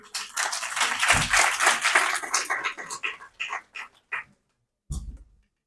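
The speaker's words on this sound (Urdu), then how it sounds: "آپ کی تالیوں کی گونج میں" Audience applause at the Faiz literary festival, Islamia University Bahawalpur, a burst of clapping that thins into scattered claps and stops, followed by one short final clap.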